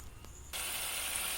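Spices dropped into hot oil for a Bengali potol (pointed gourd) dish burst into a sudden, steady broadband sizzle after a brief quiet moment, staying loud and close to the end.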